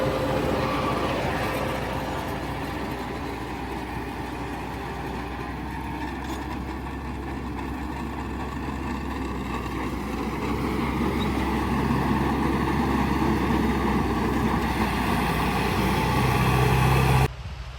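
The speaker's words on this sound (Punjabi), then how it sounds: "ਬਹੁਤ ਵਧੀਆ ਚੱਲੇ ਟਰੈਕਟਰ" A tractor engine drones steadily while pulling a super seeder sowing wheat in a field, a loud continuous low rumble with mechanical clatter, alone and close throughout.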